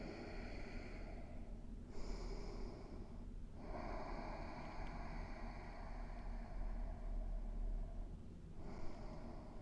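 Slow, deep breaths drawn in and let out during a gentle stretch, close and fairly loud, each long breath separated by brief pauses.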